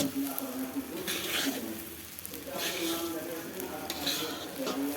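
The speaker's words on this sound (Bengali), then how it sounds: "চাল দিয়ে নাড়ি চেড়ে নেই, লাল লাল করে ভেজে নেব।" Rice fries in hot oil for beef biryani, with a steady close sizzle and repeated scraping and stirring strokes of a spoon against the pot.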